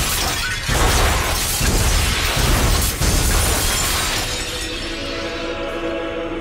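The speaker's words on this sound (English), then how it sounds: "he furiously stamped up and down on it, destroying most of the glass" Stained glass windows shattering as they are stamped on, a loud sustained crash of breaking glass that thins into tinkling fragments and a ringing tail.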